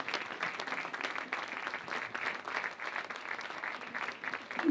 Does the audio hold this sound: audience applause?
yes